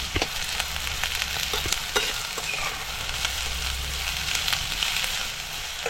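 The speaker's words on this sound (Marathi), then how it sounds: "आता आपल्याला ह्याच्यात कांदा टाकायचा आहे आणि म्हणजे कांदा आपल्याला असा नरम करून घ्यायचा" Onion softening in a small amount of oil in a pan for a Konkan dried mackerel chutney, with a steady close sizzle and frequent clicks and scrapes of stirring.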